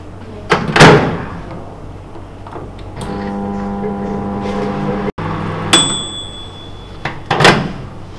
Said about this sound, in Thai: เดี๋ยวจะดีเอาเข้าไมโครเวฟค่ะเป็นความร้อน700วัตต์ค่ะแล้วก็อยู่ที่1นาท